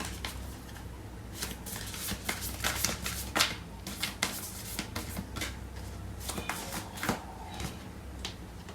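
Tarot cards being shuffled and handled, a steady run of crisp riffling and slapping flicks with sharper snaps now and then, close and fairly quiet with no talking.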